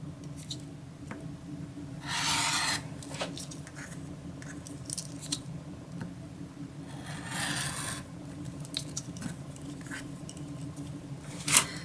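A cutter trims a curved quilt block in two quiet scraping strokes, a few seconds apart, over a low steady background hum.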